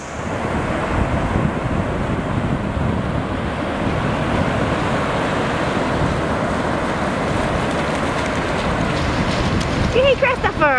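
Ocean waves on a Florida beach produce a steady, loud roar of surf mixed with wind buffeting the microphone, continuous throughout, with a brief voice near the end.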